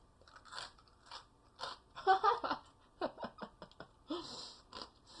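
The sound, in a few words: biting into a crunchy pie crust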